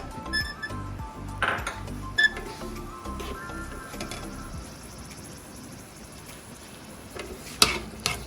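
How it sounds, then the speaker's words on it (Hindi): Dry fruits fry in a pan with a soft, light sizzle, broken by stirring scrapes and a few sharp metallic clinks of a utensil against the pan. "ये मैंने अपने ड्राई फ्रूट फ्राई करके निकालूंगी। जब तक ये फ्राई होते हैं"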